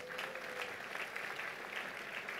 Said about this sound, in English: If you want to clap, you can clap for Jesus.